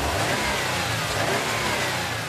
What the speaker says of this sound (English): which gives Subarus that distinctive burble.